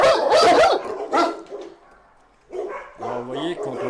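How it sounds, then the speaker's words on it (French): Dogs at an animal shelter bark and yip, with a few sharp barks near the end after a quieter stretch, mixed with people talking close by. "Alors ça aboie beaucoup."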